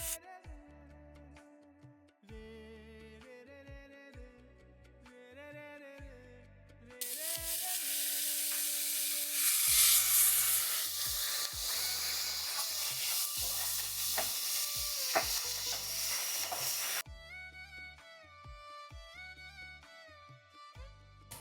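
Ginger, garlic and chilli paste hits hot oil already tempered with mustard seeds, cumin and asafoetida, a loud sizzle and crackle that bursts in suddenly and runs steadily for about ten seconds, with stirring, between stretches of background music.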